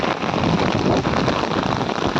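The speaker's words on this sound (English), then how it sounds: "It's good to see rain, completely drenched." Heavy rain pours down in a steady, dense hiss, near and continuous, with no voices over it.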